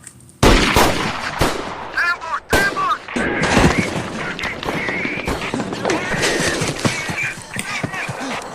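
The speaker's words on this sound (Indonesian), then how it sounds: "ada pihak ketiga yang menembaki mereka" Film gunfire from an unseen third party bursts out in loud, sharp volleys of rapid shots that continue for several seconds. Shouting voices and breaking debris sound under the shots.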